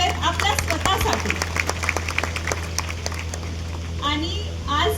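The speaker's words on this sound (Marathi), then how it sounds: "एकदा जोरात टाळ्या होऊन जाऊ देत आपल्या स्वतःसाठी." A live stage audience claps in loose, scattered bursts, the individual hand claps sharp and fairly close, with voices and children's chatter mixed in throughout.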